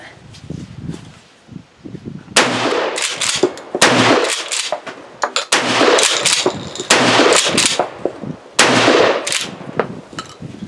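A Tokarev TX3 12 gauge shotgun fires birdshot outdoors at a range, with about eight loud, sharp blasts spaced irregularly and faint handling sounds in between.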